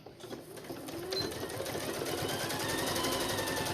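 A sewing machine runs steadily and close, its rapid needle rattle sewing down quilt binding in one continuous, even burst.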